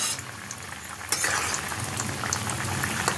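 Pumpkin simmers in a fish curry broth for a puti fish dish, a dense close bubbling and hissing with a louder burst as the lid comes off, no voices.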